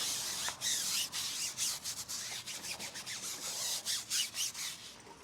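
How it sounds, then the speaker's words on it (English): A brush scrubs hard against an old car's grimy tires in quick, close back-and-forth strokes, with rhythmic rasping that never lets up and no voices. "So you just want to start scrubbing everything in here."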